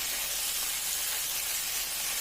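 Garlic-seasoned bhindi (okra) frying in a pan, giving a steady, close, continuous sizzle and hiss that holds level throughout with no talking.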